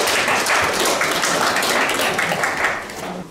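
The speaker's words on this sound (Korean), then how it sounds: "박수로 시작하겠습니다." A seated audience at a Korean policy debate on protecting platform freelance workers applauds, with steady, close clapping for about three seconds that tapers off at the end.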